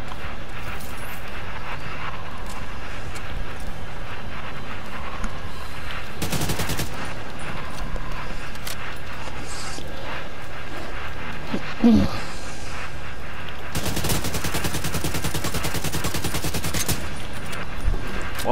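Gunfire in the shooter game The Division 2 on Roosevelt Island, with two long dense bursts of rapid automatic fire amid steady ambient noise and scattered single shots.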